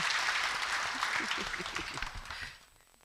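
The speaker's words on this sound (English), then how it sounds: "Can we give our panelists a clap" Audience applauding panelists at a water and sanitation investors conference, a crowd's clapping that fades gradually toward the end, with faint voices underneath.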